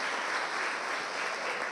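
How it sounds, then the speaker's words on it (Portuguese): A church congregation breaks into brief, even applause, a dense wash of clapping with no voices on top. "uma salva de palmas para essa equipe aí"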